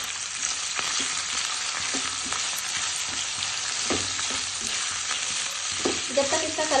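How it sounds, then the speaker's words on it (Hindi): Chicken pieces sizzle in a pan of already-fried onions on the stove for a chicken roll, a steady loud hiss with scattered scraping and stirring clicks throughout, no talking. "अब इसके अंदर मैं शामिल करने लगी हूँ ये चिकन। ये देखें इसको कलर चेंज आने तक जो है वो पकाएंगे।"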